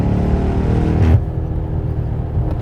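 BMW M8 with a twin-turbo V8 accelerating in sport mode, a loud steady engine drone heard from inside the cabin, briefly swelling as revs build, with no talking.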